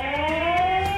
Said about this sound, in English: any attempts to tamper with your important deliveries will be immediately warned with a high-pitched 110 decibel alarm